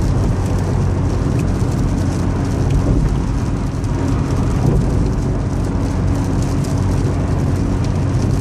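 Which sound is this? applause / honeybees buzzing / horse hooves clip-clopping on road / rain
rain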